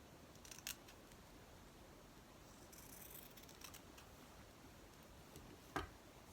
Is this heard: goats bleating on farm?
no